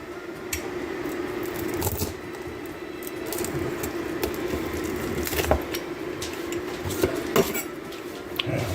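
A crispy-crust Margherita pizza, baked 19 minutes at 400 degrees, is cut with a continuous close scraping crunch. Sharper cracks of the crust rise out of it now and then.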